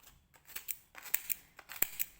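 Scissors cutting older mango leaves into small pieces, giving a steady series of crisp, close snips in an uneven rhythm with no talking.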